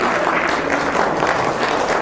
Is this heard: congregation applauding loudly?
yes